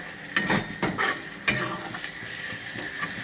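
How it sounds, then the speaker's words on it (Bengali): Raw peanuts being stirred in hot oil with spices in a pan, giving soft frying sizzle with several scraping stirring strokes in the first half, close by and moderately loud. "আমি তেলের মধ্যে মশলার মধ্যে একটু বাদামটাকে একটু নাড়াচাড়া করে নেব"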